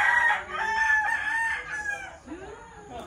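A rooster crows once, a long strained cock-a-doodle-doo, close and fairly loud, trailing off into a softer falling call.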